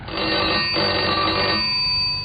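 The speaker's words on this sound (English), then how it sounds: "The telephone rang in the inspector's office at the yard." A telephone bell rings in an old radio-drama sound effect, a loud, bright continuous ring with a brief break, then a shorter burst before it stops.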